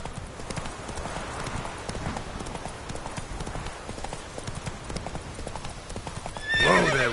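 Horse hooves clip-clopping at a steady pace in a PS4 video game, heard close and continuous, ending with a loud neigh near the end.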